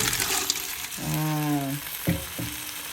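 Washed and cut crab pieces drop into hot oil for a Kerala-style crab curry, giving a close, crackling sizzle with a few brief splashes and stirring sounds.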